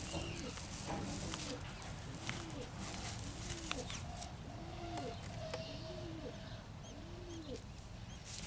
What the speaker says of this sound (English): The little chickens are actually calling their mother in there.